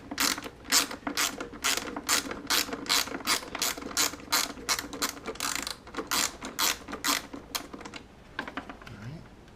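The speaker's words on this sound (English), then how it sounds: "we're going to go ahead and set up our wrench so we can get this going" Ratchet wrench backing out screws on a Mercedes C-Class during an air filter change, a close, rapid series of sharp clicking bursts in a steady rhythm, slowing near the end.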